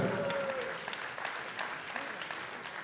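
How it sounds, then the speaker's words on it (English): Faint, fairly distant applause rises from the audience at an anniversary business convention, a soft scattered clapping that tapers off, with a brief voice near the start. "Let us give a round of applause for everyone present."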